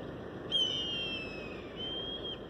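A bird near its nest in Hells Canyon gives a single clear, whistled call that glides slowly downward over about two seconds, heard nearby above a soft background hiss.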